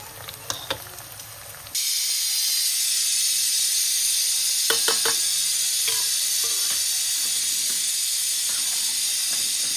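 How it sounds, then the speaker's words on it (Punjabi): Onions and tomatoes sizzling loudly in a hot pan for palak paneer, a dense continuous hiss with scattered scraping clicks, preceded by a short quieter stretch with a few taps. "ਪਿਆਜ਼ ਲਾਲ ਕਰਕੇ ਫਿਰ ਆਪਾਂ ਨਾਲ ਹੀ ਪਾ ਦਵਾਂਗੇ ਟਮਾਟਰ"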